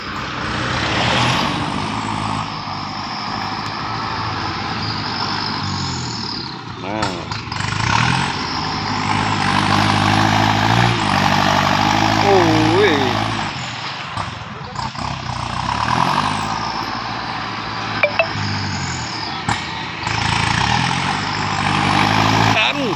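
A dump truck and a farm tractor push dirt to build up high fill, their engines roaring loud and close without pause, rising and falling as they strain under load.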